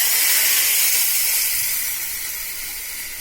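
Small eggs fry in hot oil in a small pot, giving a loud, close, continuous sizzle and hiss. The crackle stays steady and eases slightly over the three seconds, with no talk.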